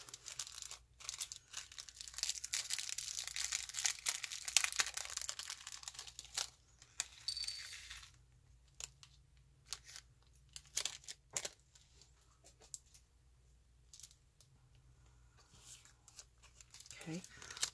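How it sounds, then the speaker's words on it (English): Soft crinkling and rustling of a thin plastic craft bag being opened, coming in bursts and then trailing off into quieter handling noises, fairly close and low in volume. "We're going to open up our plastic bag."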